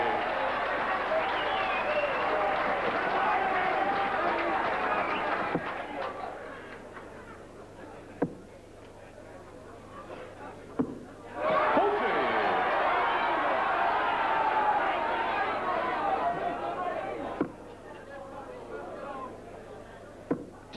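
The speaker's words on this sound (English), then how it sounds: "The crowd emoting." A crowd at a 1983 darts match applauds and cheers in two sustained waves, with sharp thuds of darts striking the board in between.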